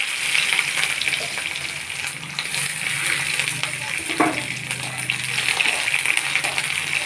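Black cumin seeds and garlic fry in hot mustard oil in a kadai, a steady close sizzle and crackle with light stirring and a single clink partway through.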